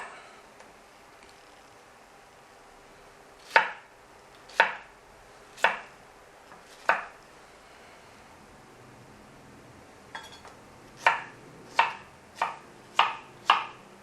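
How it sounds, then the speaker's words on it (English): A knife chops through pineapple chunks on a cutting board: a slow series of four sharp, distinct cuts, a pause, then a quicker burst of five more, crisp and close with no voices. "And then she's going to slice it up into chunks."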